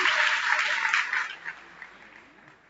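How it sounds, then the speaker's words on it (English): Clapping from an audience at an inaugural lecture, loud and full at the start, then thinning into scattered claps and fading out. "Clap on for yourself."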